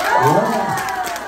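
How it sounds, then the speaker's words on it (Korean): Crowd cheering and shouting during a Hankung game demonstration at a referee and coach training session, a short burst of lively voices with children-like shouts rising and easing over about a second. "여기가 아주 응원이 좋아요"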